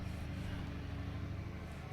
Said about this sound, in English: big truck going by.